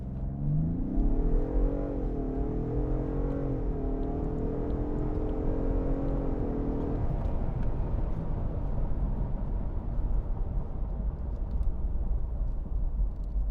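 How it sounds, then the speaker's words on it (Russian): A Ford F-150 pickup launches from a standstill in a full-throttle acceleration run, its engine rising in pitch through a long pull and then giving way to loud steady road and wind roar inside the cab. "Так, в 0 встаем, камера."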